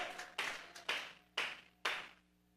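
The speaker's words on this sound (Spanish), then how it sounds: "Vamos a regalarle ofrenda de palmas al Dios de la gloria" Hands clap in a church congregation as an offering of praise to God, a handful of sharp, separate bursts of clapping at an uneven pace, fairly close and with no talk over them.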